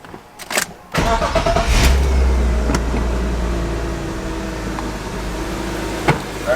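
A BMW E36 drift car engine cranks and fires, then settles into a loud, steady low rumble while idling and being put in gear, close by with a faint click near the end.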